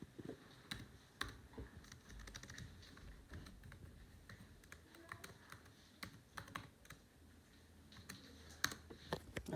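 Someone types a password on a computer keyboard, producing quiet, irregular key clicks in short bursts with brief pauses and no talking.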